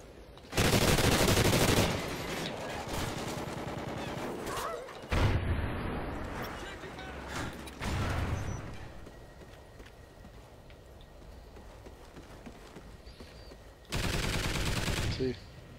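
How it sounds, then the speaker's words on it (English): Sentry gun fire in Call of Duty: Ghosts Safeguard mode on the Freight map comes in loud sustained bursts separated by quieter stretches of background game noise, with rapid shots clustering at the start, middle and end. "Sentry gun just works perfect right there"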